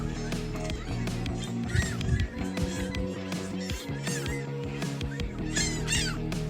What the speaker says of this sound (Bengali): পার্কিং এলাকা পার হতেই চোখে পড়ল বিভিন্ন জাতের পাখি ও হাঁস পাখিগুলি খাবারের জন্য লেকের তীরে বেশ ঘোরাঘুরি করছে